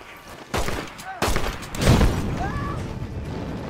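Several sharp gunshots crack out in quick succession in the Red Dead Redemption game, loud and close, followed by a lingering echo with faint voices in the background.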